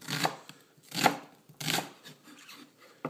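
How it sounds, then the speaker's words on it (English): A knife cuts an onion into strips after the root end is removed, giving three crisp, evenly spaced chopping strikes close up on a cutting board, with quieter knife and board noise in between. "Another way to cut an onion would be to cut the root end off and then to cut the onion into strips."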